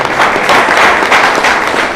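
An audience at a fighting league success celebration gives a short burst of loud applause for the coaches, dense close clapping lasting about two seconds.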